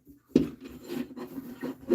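Abrasive rubbing against a spinning walnut piece on a lathe, a close scratchy rasp that swells and fades in short, uneven passes.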